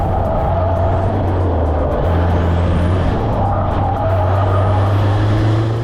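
A built Audi B8 A4 with turbo engine lapping a race track, its loud, sustained engine drone rising and falling in pitch as the car is driven hard, recorded from inside the car.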